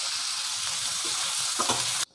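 Elephant foot yam pieces fry in coconut oil with a dense, continuous sizzle and a few stirring scrapes near the end, then the sound cuts off abruptly; no speech.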